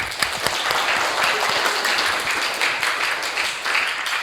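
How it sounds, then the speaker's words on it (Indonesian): A vocational school class gives a round of applause at the end of a lesson, steady crowded clapping filling the room for a few seconds. "Berikan tepuk tangan dulu."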